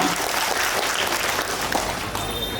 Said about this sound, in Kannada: ಎಲ್ಲರಿಗೂ ಮತ್ತೊಮ್ಮೆ ಜೋರಾಗಿ ಚಪ್ಪಾಳೆ ತಟ್ಟಿ ಅವರಿಗೆ ಅಭಿನಂದನೆ ಸಲ್ಲಿಸೋಣ